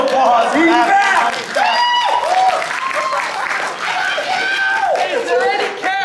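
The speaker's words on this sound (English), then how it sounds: "Oh, round of applause. He's back." Convention crowd applauding and cheering to welcome a guest onto a panel stage, loud dense clapping mixed with whoops and shouts from many voices, continuous from start to end.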